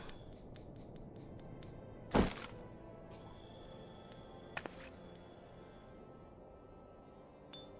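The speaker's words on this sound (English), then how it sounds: "The sound of so many gills clinking together is strangely satisfying, is it not?" Gil coins clinking together in a money pouch in Final Fantasy XIV: one sharp, bright metallic burst, then a couple of faint later clinks over a quiet ambient background.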